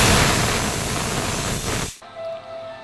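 A pressure cooker vents a loud, steady steam hiss while boiling water pitha, then cuts off sharply after about two seconds, leaving a quiet background with a faint hum.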